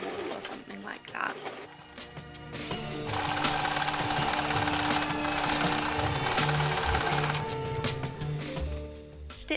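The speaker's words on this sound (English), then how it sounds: "Put it in your sewing machine and sew a little bit of it." A domestic sewing machine stitches cloth bunting in sustained bursts, its steady mechanical whirr rising loud after a quieter start and running continuously for several seconds.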